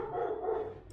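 Indoors, a dog gives a single drawn-out bark or whine-like yowl, moderately loud and fairly close, with no voices over it.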